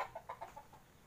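A brooding hen in a chicken coop gives a quick string of about six soft, close clucks that fade toward the end.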